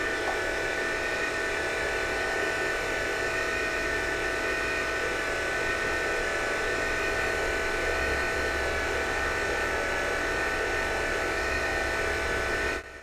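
A cheap flux-core MIG welder feeds its wire with a steady electric motor whir and a high buzzing hum. The sound is constant and moderately loud for about thirteen seconds, then cuts off at the very end.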